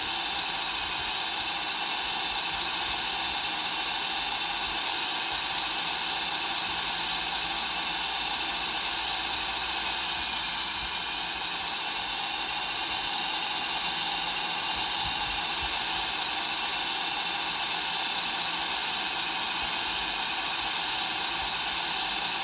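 The Hydra jet in a video game, its wings damaged, gives off a constant loud jet whine and hiss that holds steady throughout with only a slight shift in pitch midway.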